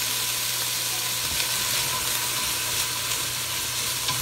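Fresh garlic sizzles steadily in a hot pan for turkey chili, a close, even hiss of frying with faint stirring scrapes and no voices.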